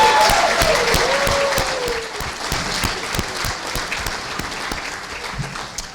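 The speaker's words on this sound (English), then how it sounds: "Please stand up so we can all give each other a round of applause." Audience applause fills a Hall of Fame ceremony honoring a 1998-99 men's basketball team, a dense sustained clapping that stays loud throughout with steady crowd texture.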